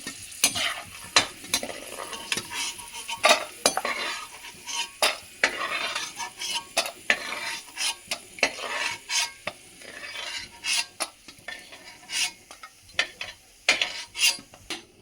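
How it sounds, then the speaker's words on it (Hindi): Almonds and cashews dry-roasting in a pan, stirred briskly: repeated loud scraping and clattering strokes of a spoon against metal in an uneven rhythm over a faint sizzle, close by, with no talk. "तो बादाम भुन गए हैं, अब मैं इनको निकाल लूँगी।"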